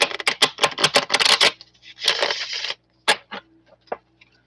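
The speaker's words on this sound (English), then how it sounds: "Let me shuffle it." A deck of tarot cards shuffled by hand, a quick burst of rapid riffling clicks followed by a few softer shuffles and isolated card taps, close and alone.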